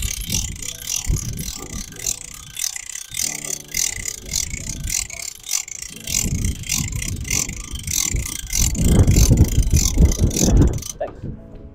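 A 500 kg geared winch hauls a motorcycle onto a trailer with uneven mechanical grinding and ratcheting clicks, close and steady, swelling louder near the end before cutting off.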